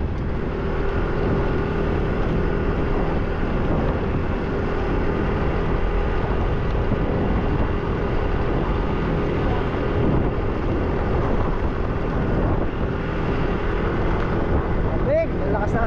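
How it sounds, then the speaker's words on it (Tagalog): Strong wind blows steadily past a garden of tomato, string bean, bitter gourd and bottle gourd plants, a continuous loud rushing roar buffeting the microphone for the whole stretch. "lakas ng hangin"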